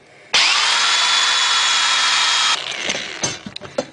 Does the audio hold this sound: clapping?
no